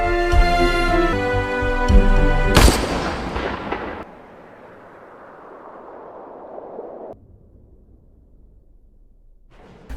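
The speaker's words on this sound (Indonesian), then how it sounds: "tiba-tiba terdengar suara tembakan" A single sharp police gunshot cracks out in a scene from the 2015 film Bajrangi Bhaijaan, cutting across swelling music and ringing off into a long fading echo.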